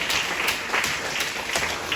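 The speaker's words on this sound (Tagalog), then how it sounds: "Dinig ng Diyos ang mga palakpak na yan ay para sa Kanya." Congregation applause at a Sunday church service, a steady wash of many hands clapping with a few sharper bursts, moderately loud and continuous, with no one talking over it.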